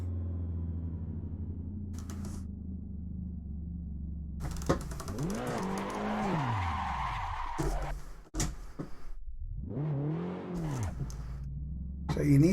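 A race car in the Assetto Corsa driving game is pushed through a corner at full throttle, its engine note climbing and falling in two long sweeps, with sharp bursts and a steady low rumble underneath.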